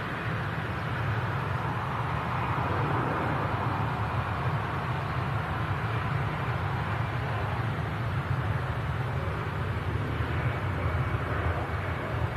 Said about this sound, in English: Quick to capture this EasyJet departing.